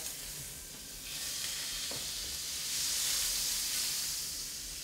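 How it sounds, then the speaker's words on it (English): Butter sizzles steadily in a hot pan for blackened salmon, a close, continuous crackling hiss that swells slightly louder midway, with no voices. "I add a little butter to the pans"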